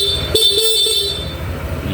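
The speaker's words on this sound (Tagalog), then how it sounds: "Busina." A motorcycle horn gives a couple of short, close, loud honks during a check of a newly bought motorbike, with a steady hum of the idling machine around them.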